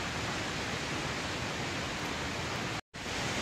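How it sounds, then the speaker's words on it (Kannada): Jog Falls waterfall roars as a steady, broad rush of falling and flowing water, close and even throughout, with a brief cut near the end. "ಈ ಹರಿತಿರೋ ನೀರು, ಈ ಸೌಂಡು"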